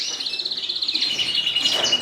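Birds twitter and chirp continuously in an indoor breeding bird room set up with nest pans, a dense, overlapping chorus of high, rapid calls with no voices.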